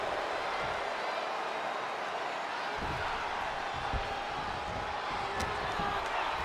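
Arena crowd noise from the WWE 2K25 wrestling video game, a steady broad roar of cheering and applause with a few thuds from the ring, under commentary.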